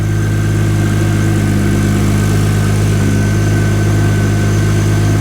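A 2JZ-swapped Mercedes W124 idles with a loud, steady, close engine drone carrying a firm low hum. It is unbroken from start to finish, with no voices.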